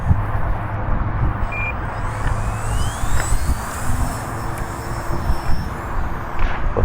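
A Multiplex FunCub radio-controlled plane takes off on its maiden flight in a light breeze, a steady electric motor whine rising in pitch over outdoor wind noise, moderately close and continuous.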